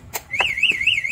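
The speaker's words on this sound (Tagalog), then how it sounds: "Mag-a-alarm po siya, mag-a-alarm." Anti-theft alarm on a three-wheel e-bike, model K3014R, wails in a loud, steady warbling siren that rises and falls about every quarter second, preceded by a few short chirps.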